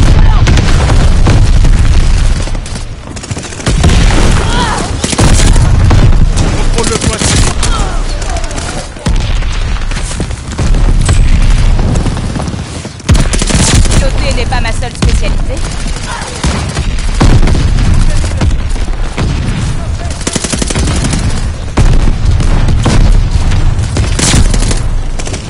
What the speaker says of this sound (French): Attention, barrage de mortier. Tir de mortier allié imminent.